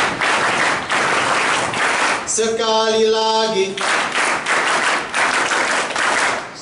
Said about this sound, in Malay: sama-samalah kita berikan tepukan pengakap